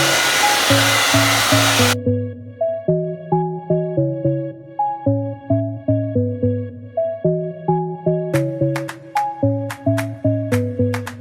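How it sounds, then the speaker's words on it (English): A loud hair dryer roars for about two seconds, then cuts off abruptly and a bouncy melodic tune plays on. "I'm gonna go ahead and hit it with a blow dryer"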